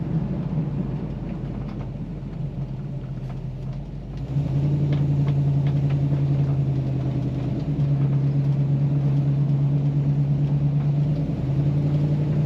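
A steady, loud engine rumble from a 1940 Ford Deluxe Convertible street rod in motion, with a deep droning tone that settles into a constant hum partway through.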